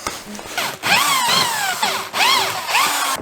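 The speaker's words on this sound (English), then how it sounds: "using an hole saw, I open up the hole sides" A hole saw bores through material for a snow roller build, a near, steady whining drill tone with rising and falling pitch sweeps, broken by two brief pauses between bursts, with no voices.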